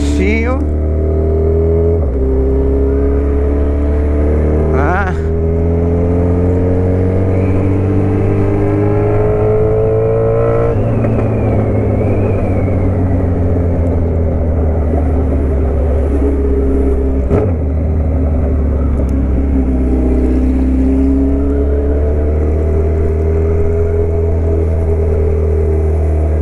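A Suzuki B-King motorcycle on a road pulls away and accelerates hard through several gear shifts, its engine note climbing steadily and dropping at each change, loud and close throughout with a constant rumble underneath.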